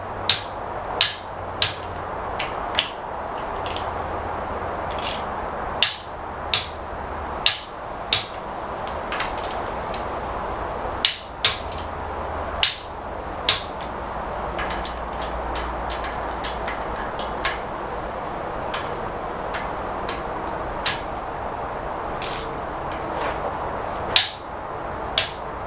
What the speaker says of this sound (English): That's how you tighten up your lug nuts.